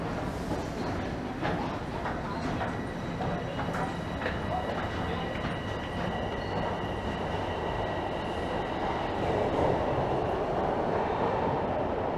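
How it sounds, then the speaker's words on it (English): A Toronto subway train rumbles steadily nearby at the platform, with rattling wheels, metallic squeals and a rising roar, and no one talking. "I'm going to head down to the platform and hop on a southbound train"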